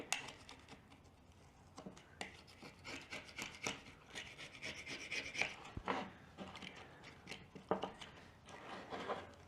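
A brush scrubs old gasket residue off the body of a 2008 Kawasaki Mule 3010 carburetor, giving quick, close, bristly rasping strokes in short irregular bursts, fairly quiet and with no talking.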